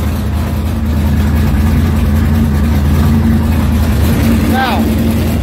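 A steady, low car engine idle hums continuously at close range, slightly irregular from an ignition timing issue, with a voice briefly heard over it.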